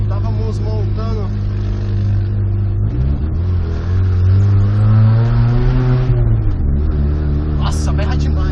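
A modified car's exhaust roars loud and close as the engine revs, rising and falling in pitch with a deep throbbing drone, while people talk over it.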